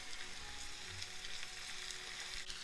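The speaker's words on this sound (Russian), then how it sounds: "Теперь добавляем сюда томатную пасту. Размешиваем." Tomato paste is stirred into onions and carrots frying in a pan for borscht, giving a dense, steady sizzle with faint soft stirring movements, close and even throughout.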